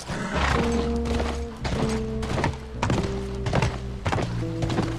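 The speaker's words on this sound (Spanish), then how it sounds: "No se maneja mal el caballo" Horse hooves clopping in the video game The Last of Us while riding, a steady series of thudding hoof beats over a low sustained music bed, with no talking.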